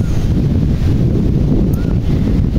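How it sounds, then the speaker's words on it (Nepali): Steady outdoor wind buffets the microphone with a constant low roaring rumble near a swing, loud and continuous with no breaks. "कति राम्रो हावा चलिरहेछ गाइस"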